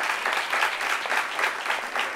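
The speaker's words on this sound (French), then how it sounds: "On l'applaudit pendant qu'elle arrive." Studio audience at a talk show applauding as a guest walks on, a dense, loud, continuous round of clapping that pulses slightly without letting up.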